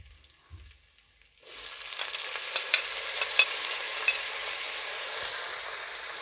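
Tomatoes drop into hot oil with garlic in a pot for beef pilau, quiet at first, then a sudden loud sizzle that settles into steady frying with a few sharp pops and spoon clicks.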